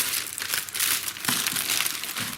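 A small plastic gift bag that came free with a cordless grass trimmer is crinkled and rustled up close in loud, continuous handling. No one speaks while the bag is opened.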